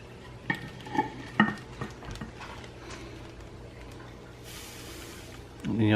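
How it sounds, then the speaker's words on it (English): Sugared corn kernels being mixed in a bowl, with clattering taps and scrapes of a utensil early on, then a softer rustle and a louder burst near the end. "you mix it up a little bit."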